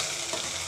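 Something frying in a pan, a brief steady hiss of sizzling oil at moderate level with no other sounds.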